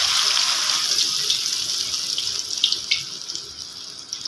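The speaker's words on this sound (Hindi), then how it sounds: "ये लीजिए घी जो है वो अच्छी तरह गर्म हो चुका है। अब इसके अंदर हमने डाल देनी है चिप्स।" Potato chips frying in hot ghee, giving a steady loud hissing sizzle that fades slightly over a few seconds, close and with no talking.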